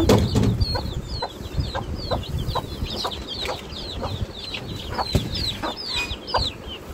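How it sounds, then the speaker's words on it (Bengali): Several chickens cluck and chatter repeatedly nearby during morning feeding in a village, with scattered short calls over a busy farmyard background. "আর সকালবেলা আমি মুরগিগুলোরে খাদ্য দিতেছি"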